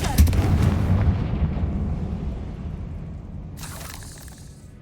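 A Confringo blasting spell explodes in Hogwarts Legacy with a loud, close booming blast that rumbles and decays over several seconds, followed by a brief crackling burst near the end.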